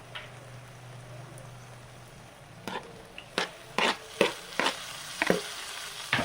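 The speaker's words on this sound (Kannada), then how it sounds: "ಸ್ಟವ್ ಆಫ್ ಮಾಡಿ ಮಿಕ್ಸ್ ಮಾಡ್ತಾಯಿದ್ದೀನಿ" Mango chitranna rice, made with grated raw mango and coriander leaves, is mixed in a pan after the stove is switched off: a faint sizzle, then a string of sharp scraping and tapping stirs at an uneven pace.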